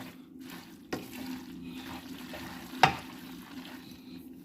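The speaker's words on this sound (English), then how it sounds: "Just going to let the egg cook away through now." An egg cooks in a hot pan alongside chicken, bacon, mushrooms, onions and pasta, giving a soft, steady sizzle broken by two sharp knocks, with no voices.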